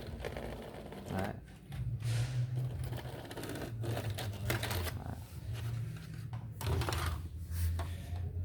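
A repaired ceiling fan, set up to chase away flies and mosquitoes, runs with a steady low mechanical hum and rattle while someone talks over it.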